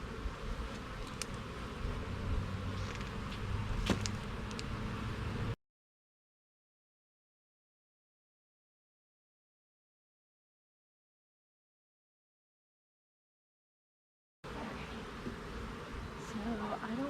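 Honey bees hum densely around an open hive during queen rearing, a close, continuous buzz with individual insects flying past the microphone, broken by a long stretch of total silence before the buzzing resumes.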